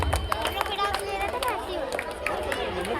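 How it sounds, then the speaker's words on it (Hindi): An audience at a school's annual function in Bhiwandi applauds young child performers with steady, scattered hand claps, moderately loud and close, mixed with crowd chatter throughout. "इन नन्हे कलाकारों को एक बार जोरदार तालियों से स्वागत करके"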